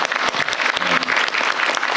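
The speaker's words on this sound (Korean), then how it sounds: "박수 쳐주세요." A room full of people claps steadily through a Korean government meeting with the Ministry of Health and Welfare, the dense applause holding for about two seconds with a faint tonal murmur beneath.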